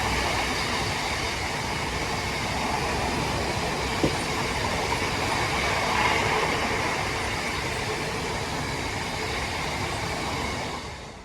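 A Class 66 diesel, 66621, hauls a Wembley to Tunstead freight through Bletchley station: a steady, loud rumble of wagons and rolling wheels holds for about eleven seconds, with a brief metallic click near the middle and a slight swell before fading.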